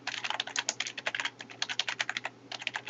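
Rapid typing on a computer keyboard, dense irregular clicking keystrokes in quick bursts, close and steady over a faint low hum with a brief pause near the end.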